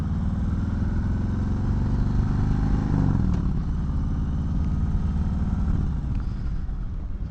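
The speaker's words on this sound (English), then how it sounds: "See, here comes another bike right now." A motorcycle rumbles past on a street, its engine loud and continuous, a steady throaty drone that swells slightly in the middle and then eases as it moves off.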